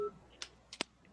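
A few quick electronic phone-style beeps from a computer, short and faint, spaced irregularly over about a second in a quiet room.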